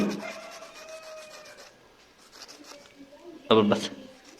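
Someone rubs a torn electrical wire while installing concealed conduit wiring in a building. The rubbing is a soft, close scraping, with a sharper, louder burst near the end and faint voice-like sounds underneath.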